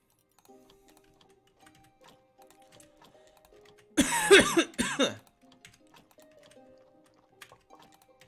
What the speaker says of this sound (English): Gosh, I'm coughing up a storm today.